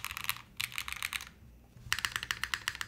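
Typing on a Paragon mechanical keyboard: bursts of crisp, rapid keystrokes with a short pause midway, then another steady run of clacky key presses, close and alone.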